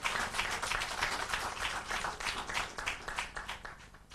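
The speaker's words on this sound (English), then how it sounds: "Round of applause, ladies and gentlemen" A crowd at a building-industry launch event applauds with steady, dense clapping that holds strong for several seconds, then thins and fades toward the end.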